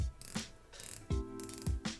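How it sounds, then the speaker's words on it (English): A few quick runs of sharp ratcheting clicks come from a Zelos Swordfish titanium watch bezel being rotated close up, with brief pauses and light handling knocks in between. "Feels like it must be 120 click. Gosh, it's loud."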